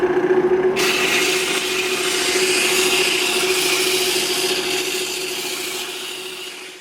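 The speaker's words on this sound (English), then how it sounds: "I'm going to take some 60 grit sandpaper and work my way through the gauges and get this thing nice and smooth" A poplar wood tool handle is sanded with 60-grit sandpaper, likely spinning on a lathe, giving a steady, close abrasive rasp over a constant motor hum that slowly fades toward the end.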